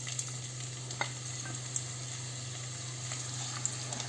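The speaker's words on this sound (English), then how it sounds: "now I will be adding the chopped onion." Chopped onion frying in olive oil in a pan, a steady broad sizzle with a low hum beneath and a few faint clicks of stirring, alone without talk.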